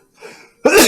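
A single sharp sneeze bursts out loud and close during a tabletop role-playing game session, preceded by a faint, breathy intake.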